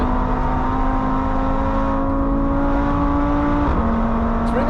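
A 2.5L VW Passat RS engine roars at sustained high revs on the Nürburgring track, a loud, steady in-car drone whose pitch dips abruptly near the end before climbing again.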